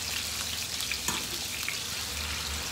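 Sole fillets frying in a pan give a steady, dense sizzle and crackle throughout, with a few small pops standing out above the hiss.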